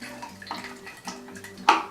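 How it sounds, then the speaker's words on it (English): Tap water streams over a film developing tank being rinsed, a steady close hiss and splash with a brief louder gush near the end, no talk. "I like to go 15 minutes under a nice stream of water."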